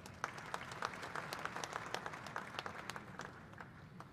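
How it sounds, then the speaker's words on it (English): Young people in a conference room at a coffee-producing countries summit clap for the guest of honor, a busy crowd of individual hand claps with distinct sharp slaps over a continuous patter. "Can all the youth in the room please clap your hands for the guest of honor?"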